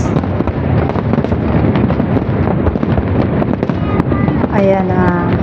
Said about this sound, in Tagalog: Ayan guys, ito na, nakuna na talaga namin yung fireworks.